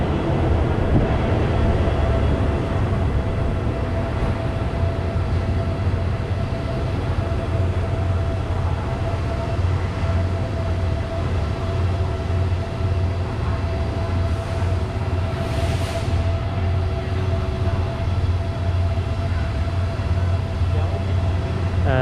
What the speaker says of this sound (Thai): มีรถไฟหลายขบวนอยู่นะที่เขา เข้ามาในชานชลานะครับ